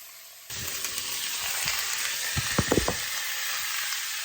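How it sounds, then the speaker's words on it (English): Steady sizzling of vegetables in a hot frying pan, a constant crackling hiss with a few louder pops partway through, close up and no talking. "So we're just going to leave that to sizzle, sizzle, sizzle."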